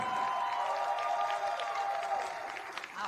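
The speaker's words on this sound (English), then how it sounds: "Let's give them a round of applause." Crowd applause at a professional wrestling event, a moderate wash of clapping and crowd noise that holds steady and then tapers off slightly toward the end.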